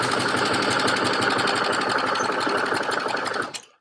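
A sewing machine stitching stretchy jersey fabric on the interfaced side, a loud steady mechanical whir with fast even needle strokes that runs without pause, then winds down and stops near the end.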